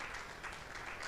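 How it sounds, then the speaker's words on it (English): A short stretch of steady, fairly faint audience clapping at a West African church conference, an even patter of many hands with no break. "So I want to clap for them for the great things they are doing."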